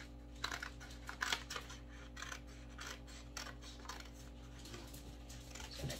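A utility knife scores down a line on card, producing a series of short, quiet scraping and tapping cuts in an irregular rhythm against a near-silent room.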